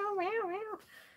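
A house cat in a bathroom gives one clear, wavering meow close by, followed by a faint rustle.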